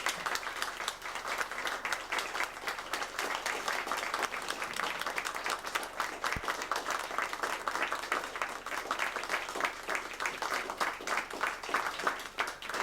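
Sustained, steady applause fills a bookstore reading room in Seattle as an audience welcomes author Dawn Wells, the dense clapping holding at an even level for the full stretch.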